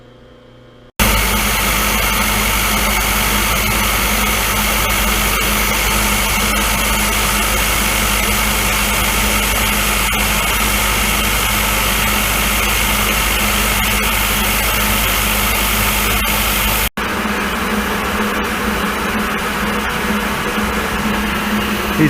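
A milling machine makes cutting passes on a metal griddle, a steady loud mechanical drone with constant motor hum running throughout, briefly interrupted near the end before resuming at a lower level.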